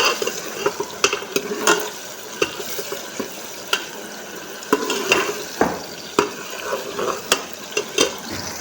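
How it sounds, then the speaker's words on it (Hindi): Tomatoes fry in a pan, a constant sizzle broken by irregular scrapes and clinks of a utensil stirring, close and alone. "अब हम टमाटर को अच्छे से फ्राई करेंगे।"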